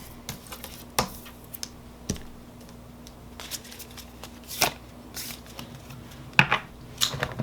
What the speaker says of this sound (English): So the last set of oracle cards I shuffled from was from the Rose Oracle Tarot deck.